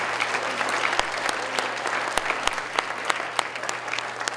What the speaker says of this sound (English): So we'll give them one final round of applause